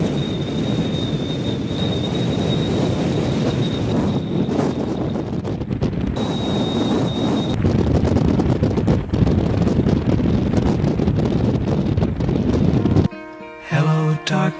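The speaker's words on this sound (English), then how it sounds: "It's so windy now." Strong gusting wind buffets the microphone on open water while windsurfing, a loud, steady roar with rumbling low-end pressure that runs for most of the clip before dropping out abruptly near the end.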